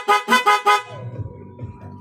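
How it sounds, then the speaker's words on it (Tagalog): Four short, loud horn beeps in quick succession from a Honda TMX Alpha 125 motorcycle, then a low engine idle rumbling faintly afterward. "malakas yung busina na yan eh"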